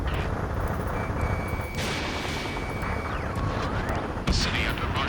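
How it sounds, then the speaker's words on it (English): In the PS5 video game Ace Combat 7: Skies Unknown, dense gunfire and the roar of jet engines fill a city scene at night, loud and continuous, with sharper blasts and sweeping jet passes rising out of the din. "Gunfire and the roar of jets echoing through the streets"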